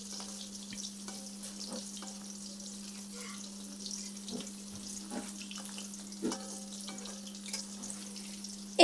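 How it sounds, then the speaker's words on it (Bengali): Paneer pieces shallow-frying in a pan over medium-high flame, a soft steady sizzle with occasional small pops and clinks as the pieces are turned, fairly quiet and close with no talking. "এইভাবে আস্তে আস্তে পনিরগুলো উল্টে পাল্টে সব দিকটা খুব ভালো করে ভেজে নিলাম"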